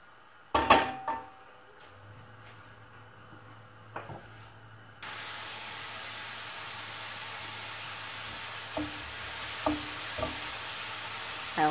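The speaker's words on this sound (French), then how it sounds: "dans une poêle, on fait revenir un oignon râpé, deux gousses d'ail écrasées dans un petit peu d'huile d'olive" Grated onion and crushed garlic fry in a little olive oil in a pan over low heat, giving a steady soft sizzle with a few clanks and scrapes as the mix is stirred.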